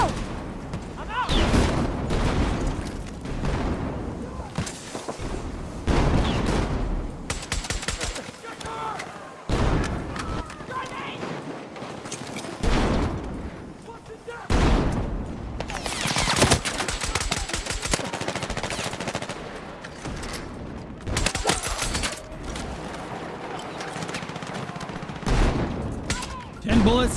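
Rapid gunfire from an LMR27 DMR in a video game, with dense bursts of shots and heavy booms running nearly continuously, loud and close, while a voice talks over the action.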